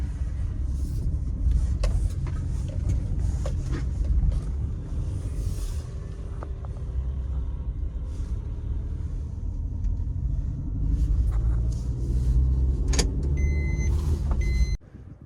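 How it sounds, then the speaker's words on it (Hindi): A car climbs a rough unpaved road toward an ATV parking area at Doodhpathri in Kashmir, its low engine rumble and body rattle steady throughout, with occasional knocks and creaks from the uneven track. "बहुत कच्चा रोड है यहाँ पर भाई, तो गाड़ी चढ़नी चाहिए"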